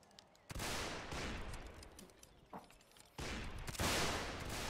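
Musket volleys in the North and South video game, two long crackling bursts of massed gunfire separated by a quieter stretch with a lone shot, fairly distant and dense.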